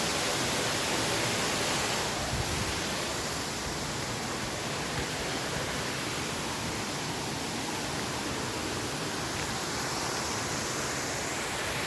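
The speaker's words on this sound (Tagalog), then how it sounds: "Ganda ng falls." Inambakan Falls in Moalboal, Cebu roars as a dense, continuous wash of falling water, loud and steady and close by for the whole stretch, with no voices over it.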